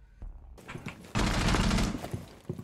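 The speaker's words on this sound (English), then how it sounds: "someone's shooting from VIP lounge" Gunfire in the video game Rainbow Six Siege: a few scattered shots, then a loud sustained automatic burst of about a second, followed by quieter trailing shots, with no voices.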